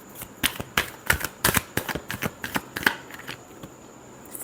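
Tarot cards being shuffled by hand: a quick run of crisp riffling bursts and soft slaps, close and fairly clear, with no talking over them.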